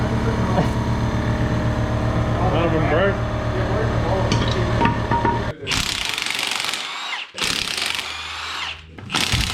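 Power tool loosening engine head bolts on a burnout truck, a loud steady whir with shifting pitch that cuts into several sharp bursts and stops near the end, a person talking in the background.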